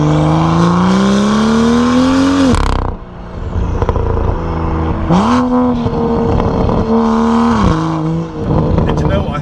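A BMW M2 F87 fitted with an iPE exhaust system revs hard and loud nearby, rising in pitch over two seconds before cutting off and then blipping up repeatedly in sharp bursts. Speech is heard underneath.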